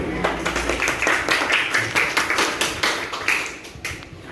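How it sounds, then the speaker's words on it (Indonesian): A small group claps in a quick, fairly even rhythm of sharp, close slaps, with no talking over it. "Ayo dong, tepuk tangannya"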